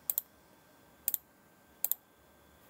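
Computer mouse clicks in SIMATIC Manager software, three crisp double clicks spaced about a second apart, close and isolated over a quiet background hum.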